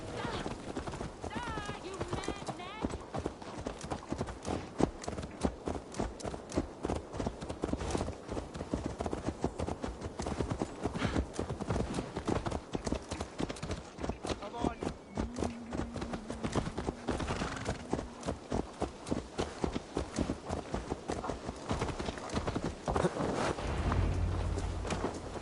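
Horse hooves clip-clopping in Assassin's Creed Valhalla, a steady rapid rhythm of hoofbeats throughout with some wind noise, continuing under intermittent talk.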